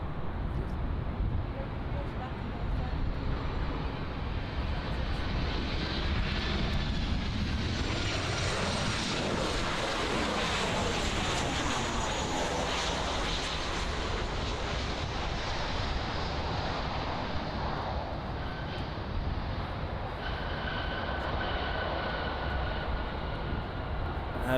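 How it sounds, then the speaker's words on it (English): A Lufthansa airliner taxis to the runway at Miami International Airport, its jet engines giving off a steady, broad roar from a moderate distance that swells in the middle of the clip and eases later. "That is Lufthansa flight LH463 taking off, taxiing I should say, to runway 9er."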